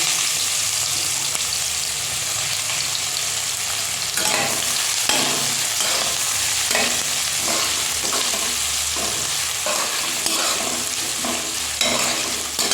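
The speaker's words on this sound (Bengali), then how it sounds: "তো এর মধ্যে আমি কেটে রাখা পেঁয়াজগুলো দিয়ে দিলাম।" Chopped onions fry in hot oil tempered with cumin and bay leaf, a loud continuous sizzle broken by repeated stirring scrapes and clatters.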